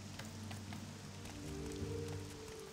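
Rain falls in the video game Morrowind, a soft, steady patter with scattered drops over a low ambient drone, fairly quiet throughout.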